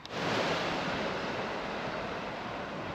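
Sea waves wash against the seafront at Teignmouth in a continuous loud surf roar with wind buffeting the microphone, steady throughout and with no talk.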